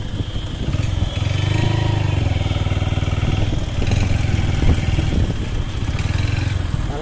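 A motorcycle engine runs steadily and loud close by throughout, with a low rumbling idle and slight revving, at a parking spot near a waterfall.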